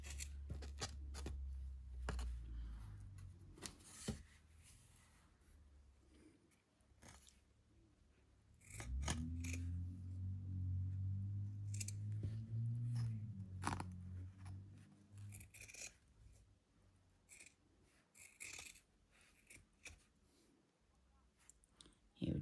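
Scissors trim a paper mermaid cut-out in short snipping clicks spread across the stretch, close and quiet, with a low hum and rustling in the middle and no clear talking.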